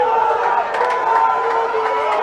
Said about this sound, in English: When you're standing at the top of a big tin shed with a raucous crowd